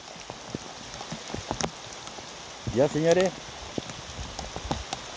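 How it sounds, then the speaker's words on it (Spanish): Heavy rain falls at Laguna Aculeo in Chile, a steady close hiss of drops with sharp splatters, while someone speaks briefly partway through. "esto es lo que les puedo mostrar ahora porque está lloviendo mucho"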